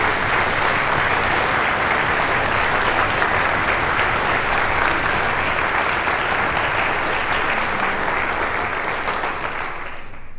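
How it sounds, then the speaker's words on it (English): Sustained audience applause for poets at a university concert event, a dense, even roar of many clapping hands holding steady for about ten seconds before thinning slightly at the end, with no talk over it. "can we have another round of applause for our poets who have been so brave?"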